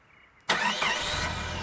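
A car engine cranks and catches abruptly after a quiet moment, then settles into a loud, steady, broadband running roar close by.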